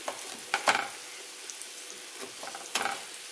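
Vegan veg kebabs cooking in a pan over medium gas heat, a soft continuous sizzle broken by a few louder crackling bursts and stirring scrapes, close and without talk.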